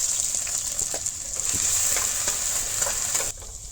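Chopped onion hitting hot oil for a jackfruit pakora curry, with bay leaf already in the pan, gives a steady close sizzle and frying hiss throughout, with occasional stirring scrapes and no talk.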